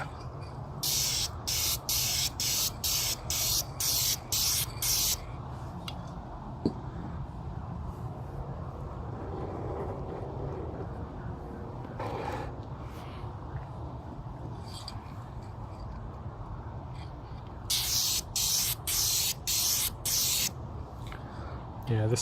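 Spray paint hisses from an aerosol can in rapid bursts of short sprays, a rhythmic run at the start and another near the end, applied to a Jaguar XJ-SC with a quieter stretch of background noise between.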